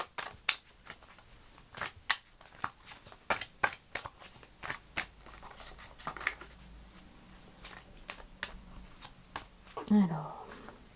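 Oracle cards being shuffled by hand during a tarot-style reading, a run of crisp riffling flicks and slaps in irregular bursts, with a voice speaking at times over them.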